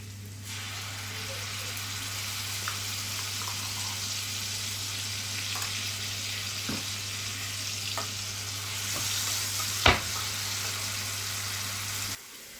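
Blended onion and garlic fry in oil, a dense, continuous close sizzle with a steady low hum beneath and a few utensil taps, one sharp clack near the end.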